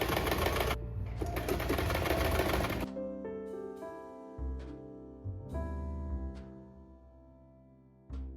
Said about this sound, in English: Now you're going to continue sewing.